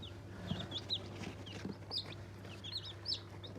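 Australorp chicks and hens in a coop, with soft repeated clucks and short high peeps close by, scattered irregularly over a steady low hum.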